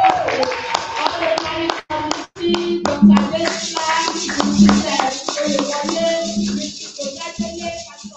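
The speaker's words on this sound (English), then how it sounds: "Let's give them a round of applause." At a Sunday service at a Pentecostal church, a congregation claps in uneven bursts with some sharp individual claps. Voices and tonal sounds run under the applause, which thins toward the end.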